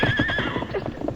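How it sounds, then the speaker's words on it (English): A horse in an old circus radio drama lets out a close, loud whinny that rises and shakes over about a second, with shuffling clip-clop underneath. "And a good horse."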